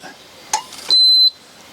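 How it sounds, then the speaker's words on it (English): A G&L pure sine wave inverter sounds a single sustained high electronic alarm tone as a compressor-type mini-fridge in an RV tries to start, preceded by a short click and brief voice-like noise, then silence. "the inverter did not specify what the alarm was"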